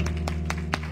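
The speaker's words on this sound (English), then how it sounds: "Come on, clap your hands for Mother Nance as she comes." A church congregation claps hands in steady rhythm, four sharp claps about a quarter second apart over sustained organ-like tones and room hum.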